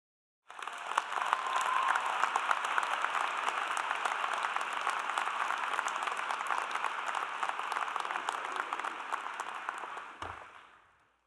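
A commencement ceremony audience breaks into loud, sustained applause that holds steady for about ten seconds before tapering off quickly, with dense clapping heard from across a large hall.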